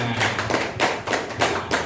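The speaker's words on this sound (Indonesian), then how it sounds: "tepuk tangan untuk kita semua" A small group claps together in a rhythmic, fairly close burst of slightly uneven claps with little talk.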